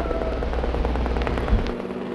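Helicopter flying over the Himalayas: a steady, fairly loud rumbling drone with a faint rhythmic rotor chop running through the whole stretch, with no voices over it.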